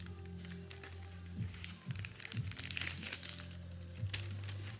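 A brown paper lunch bag is folded in half by hand, giving soft, close crinkling and crumpling rustles in a few uneven bursts, fairly quiet, with no talk.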